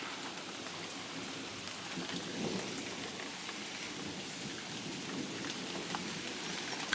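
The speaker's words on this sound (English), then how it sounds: "The rain is not strong here" Light rain falling steadily outdoors in the Thames Valley ahead of a storm, a soft even patter with faint scattered drops throughout and no voices.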